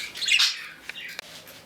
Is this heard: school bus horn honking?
no